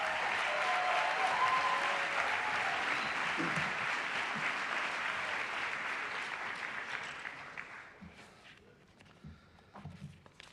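Graduation audience at the American School of Madrid, Class of 2025, applauding steadily in a large room, with faint cheers or whistles early on; the dense clapping holds for about eight seconds, then thins and fades to scattered claps.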